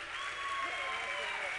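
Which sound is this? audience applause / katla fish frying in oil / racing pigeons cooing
audience applause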